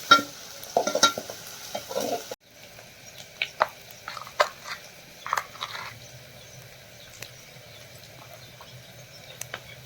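Onions roasting in a pan for a kantola and onion dish, a faint low sizzle beneath repeated close scraping and clacking stirs of a spoon, busier at first then sparser; no voices.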